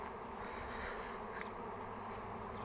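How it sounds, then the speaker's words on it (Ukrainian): A large swarm of honeybees flying in the open air near an apple tree, a dense steady buzzing hum that fills the whole stretch without pause, with no voices over it. "Ось такий величезний рій."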